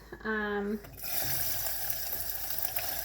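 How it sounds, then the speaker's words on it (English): A loud sizzle and hiss bursts up after a short tonal sound and keeps going steadily as food hits hot oil in a frying pan. "That sizzle is what you want to hear."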